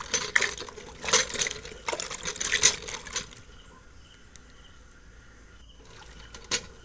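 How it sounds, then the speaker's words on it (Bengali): Mangoes gathered from beneath a tree being scrubbed and rinsed by hand in water, with close splashing, sloshing and rubbing for about three seconds, then quieter dripping and faint handling, and a final brief splash. "ভালো করে কুচিয়ে কুচিয়ে ঘষে ধুয়ে নিচ্ছি"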